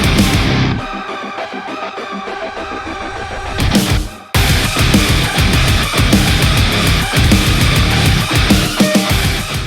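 Loud, dense metal track remaking a song: a sparse synth intro before heavy drums and distorted guitars crash in, a sharp drop-out at about four seconds, then full pounding band with steady kick hits.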